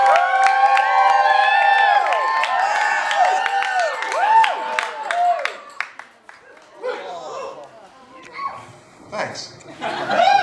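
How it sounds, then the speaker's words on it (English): A small crowd at a sword swallowing show gives a brief, scattered round of applause, with a few chuckles, after a stretch of bright ringing tones. "I can tell from the lukewarm round of applause"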